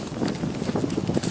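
Gusty wind buffets the microphone in low rumbling bursts, steady and close, with no talking.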